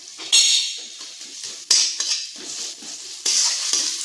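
Ginger garlic paste stirred into frying onions in a pan: a few sharp metal clinks of a spoon against the pot at the start and again around the middle and end, with scraping and soft sizzling between, close and fairly loud.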